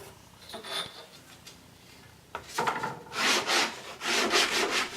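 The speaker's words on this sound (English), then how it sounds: "I marked and then cut the taper on my bandsaw." Rasping bandsaw cutting a taper in wood in bursts, growing louder and steadier in the second half, close by with no talking.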